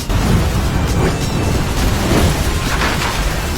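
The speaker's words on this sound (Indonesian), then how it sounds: "Gas memenuhi rumah. Akhirnya meledak." A loud, sustained rumbling roar with deep low-end booming, steady throughout, from a gas explosion inside a sealed house.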